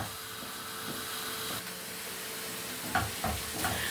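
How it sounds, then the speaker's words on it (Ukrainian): Onion frying in a pan while being stirred, a steady soft sizzle with a few sharper scraping clicks near the end, close and fairly quiet with no voices. "помішуйте цибульку, щоб вона так рівномірно просмажувалася"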